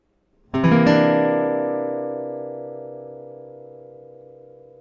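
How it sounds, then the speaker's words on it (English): One C ninth chord is strummed on guitar after a short pause, ringing bright and full, then decaying gradually without any other sounds. "now let's have a listen to the C ninth chord."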